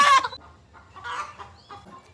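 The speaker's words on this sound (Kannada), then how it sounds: "ನೋಡಿ, ಕೋಳಿ ಇಟ್ಕೊ ಬರ್ತಿದ್ದಾನೆ." A chicken clucking as someone carries it, with a sharp squawk at the start followed by a few softer, broken clucks, close by and with no one talking.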